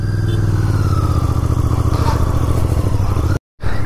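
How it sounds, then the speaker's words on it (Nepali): Royal Enfield Bear 650 motorcycle engine running steadily and loud under way, a continuous throbbing drone that cuts out abruptly near the end before resuming. "वाओ, बियर 650 चलाइरहेछु अहिले मैले"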